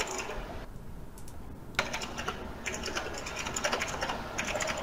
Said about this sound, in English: your keyboard is fucking loud as dicks